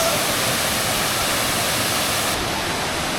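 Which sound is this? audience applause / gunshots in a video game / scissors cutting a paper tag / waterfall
waterfall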